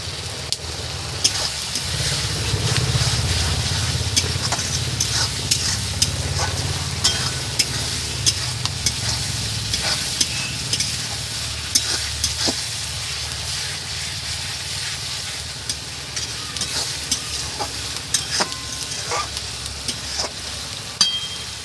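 Local chicken meat curry sizzles steadily in a pan and is stirred over it, a loud continuous frying hiss broken by frequent scraping clicks of the spoon, with no talking.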